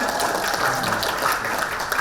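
Audience at a high school prom night event applauding both teams after a competition round, a steady wash of crowd clapping throughout with no clear individual claps.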